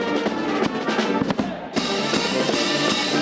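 A Pamplona street band playing brass-heavy festive music at full volume, dense and continuous with a cymbal crash partway through.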